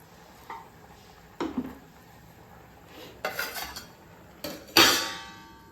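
A spoon scrapes and knocks against a bowl while stirring soft ragi mudde with a spoonful of ghee, giving a few scattered, close clinks and scrapes over a quiet background.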